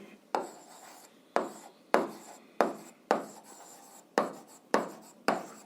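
A math proof being written out by hand, heard as about eight distinct, fairly loud scratchy strokes in an uneven rhythm, each dying away quickly, with no talking.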